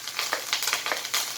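Curry leaves and green chillies frying in hot oil, a loud close crackling sizzle with bursts of spitting pops throughout.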